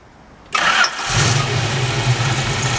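A 1970 Dodge Challenger's engine cranks briefly and catches, then settles into a steady, close, throaty idle with a deep low rumble.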